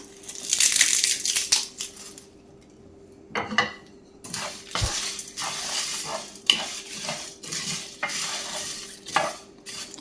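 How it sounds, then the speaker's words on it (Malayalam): Dried bay leaves (tej patta) being crushed and broken into small pieces over a pan in the kitchen, giving irregular crisp crackles and rustles, with a few clinks and a soft steady hum beneath. "ഈ തേജ്പത്ത് ഒന്നും കൂടെ ചെറിയ കഷ്ണങ്ങളാക്കിയിട്ട് ഇട്ട് കൊടുക്കാം"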